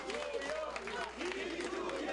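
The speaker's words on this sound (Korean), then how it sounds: "당선이 확정되자 지지자들은 환호성을 외쳤습니다" Supporters in an election campaign office in Masan erupt in loud, sustained cheering and shouting as a candidate's victory is confirmed, a dense crowd roar filling the whole stretch.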